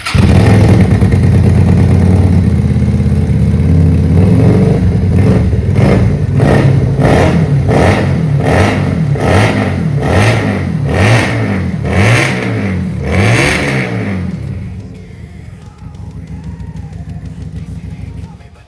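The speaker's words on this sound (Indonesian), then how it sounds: "di sini kita mau cek sound ya, gimana motor ini bunyinya ya" A custom Keeway SCR 250V scrambler motorcycle with a stock exhaust and a modified header pipe revs repeatedly from idle, its loud, close engine rising and falling in about ten blips before settling back to a quieter idle.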